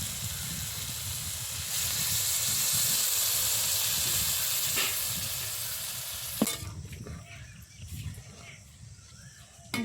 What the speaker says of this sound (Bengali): দেখুন পেঁয়াজের সাথে ডালটা কি সুন্দর ভাজা হয়েছে। এবার দিয়ে দেবো জল।